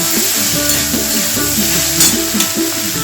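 Cumin seeds, turmeric and three slit green chillies frying in hot oil for a Bengali prawn dish, a steady close sizzle with soft stirring scrapes throughout.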